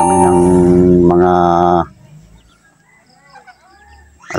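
Farm chickens at a rural bamboo-hut homestead give a loud, close burst of rooster crowing and clucking lasting under two seconds, then scattered faint clucks and calls linger in the background.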